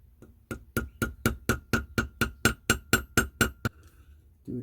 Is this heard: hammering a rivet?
yes